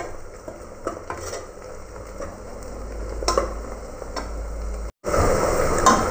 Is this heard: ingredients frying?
yes